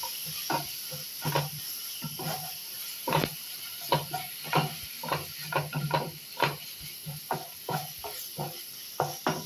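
Chilli powder masala sautéing in a pan for mutton leg gravy, with soft sizzling steadily underneath and a long run of close scraping stirs, some sharper clacks of the spoon against the pan.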